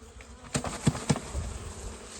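A close swarm of bees hums steadily as a hive frame is shaken, with three sharp knocks as the frame is jolted, the buzzing continuing underneath.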